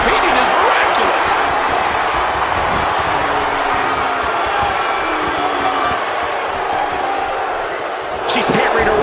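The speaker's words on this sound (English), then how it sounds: "You can hear this crowd." A wrestling arena crowd roars and cheers during a Charlotte and Becky Lynch vs. Sasha Banks and Bayley elimination tag match, a dense, loud, continuous wash of noise with scattered shouts and a brief dip near the end before it swells again.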